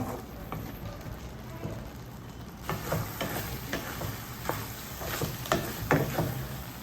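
Vegetable Maggi noodles fry dry in an open pan over a medium flame, with a steady sizzle and a run of scraping stirs that grow busier partway through, and some speech in the background.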